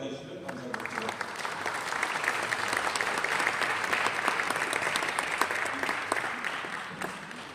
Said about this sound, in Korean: 나오실 때 큰 박수로 맞아주시면 감사하겠습니다.